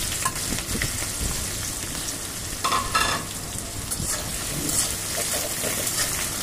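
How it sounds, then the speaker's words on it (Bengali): Onion, chilli and garlic frying together in hot oil in a kadai, giving a dense, continuous sizzle with bursts of stirring and spluttering throughout, close and fairly loud, with no speech. "তারপরে পেঁয়াজ মরিচ সব রসুন একসাথে দিয়ে দিচ্ছি।"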